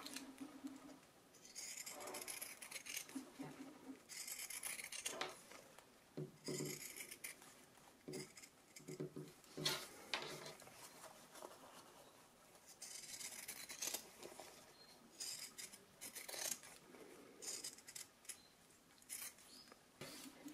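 Scissors snip steadily through fabric while a small Easter bunny treat bag is cut out, giving repeated crisp shearing rasps close up, with no talking.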